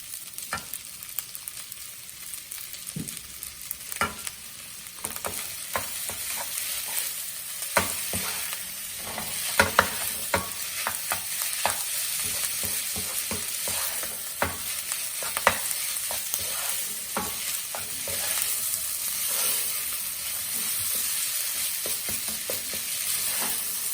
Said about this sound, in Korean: 밥이 어느 정도 볶아지면 굴소스를 조금만 넣어줄게요.